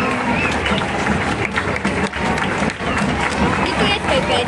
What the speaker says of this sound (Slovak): ešte raz veľký potlesk pre vás všetkých